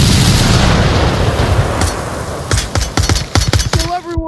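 Explosions and gunfire in the Onward VR video game, beginning with a loud sustained blast rumble that gives way to a rapid series of sharp close shots.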